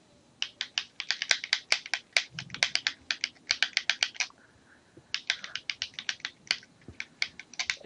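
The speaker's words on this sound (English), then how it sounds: "you can hear me clicking it back and forth real loudly, can't you?" Game controller buttons click rapidly back and forth in quick bursts of sharp, close plastic taps with short pauses between runs.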